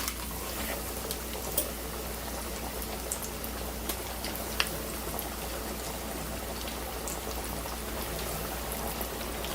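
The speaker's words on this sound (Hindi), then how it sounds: "तो आए हम चिकन को इसमें फ्रायर में डाल रहे हैं।" Chicken pieces frying in hot oil in a deep fryer give a steady, dense sizzling hiss with faint bubbling and crackle, continuous and close throughout, with no talking.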